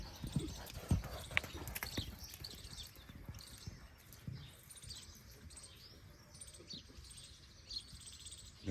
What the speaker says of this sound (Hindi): जो नर घोड़ा होता है ना, ये ना नर घोड़ा होता है